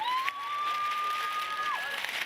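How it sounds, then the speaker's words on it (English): Crowd cheering from the stands at the 2022 NCAA Division II outdoor track and field championship, a steady, fairly distant roar of applause and shouts with a long sustained whistle-like tone running through it. "Jackson's teammates from Grand Valley State very much in the stands, trying to cheer him on"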